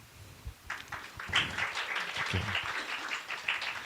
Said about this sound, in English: Please give applause.